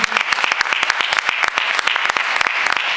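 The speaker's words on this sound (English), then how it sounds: "Give him a round of applause." A room of people at an East Cleveland Democratic Club meeting applauding Minister Roland Muhammad, dense steady clapping close by for a few seconds with no talk over it.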